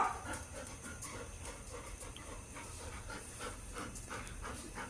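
A golden retriever panting softly and steadily in quick, rhythmic breaths, close by but faint, with no talking.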